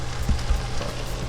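Pasta water boils in a pot after about fifteen minutes, with brown residue floating on top, giving a steady, close bubbling hiss with faint pops and no talking.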